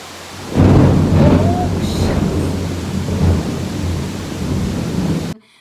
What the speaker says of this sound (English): Waiting for the thunder.